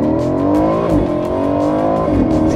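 Aston Martin Vantage with a twin-turbo V8 accelerating hard, a loud, close engine note rising steadily through the gears with a brief dip as it shifts, smooth and continuous throughout.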